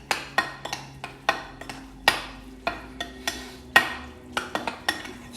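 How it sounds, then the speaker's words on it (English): Roasted butternut squash with pepper, roasted garlic and onions being mixed in a pan or bowl, with a steady run of sharp utensil scrapes and knocks repeating every half second or so, close and fairly loud, with no talking. "So just mix that all together"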